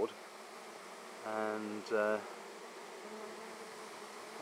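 Honey bees fanning in large numbers at a flowerpot swarm bait hive, a steady low buzz with a brief louder tonal hum rising twice near the middle; a single spoken word is heard.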